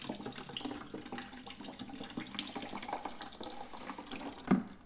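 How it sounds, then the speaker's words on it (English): Engine coolant runs out of a motorbike in a steady, close splashing trickle, like a running tap, with a louder splash near the end. "Some of this excess fluid soaked up. It's flowing through here."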